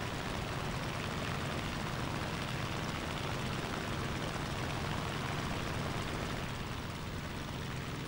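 The propeller engine of an F4U-1D Corsair fighter drones in War Thunder gameplay, a steady, loud, broadband roar of airflow and engine that holds without pause and is heard alone, with no voices.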